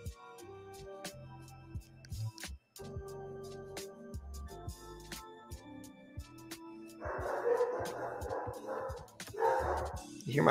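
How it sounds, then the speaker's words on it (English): Two short bursts of a dog barking or yapping indoors, loud and close near the end, following a stretch of quiet talk and background noise. "Hear my dog, man."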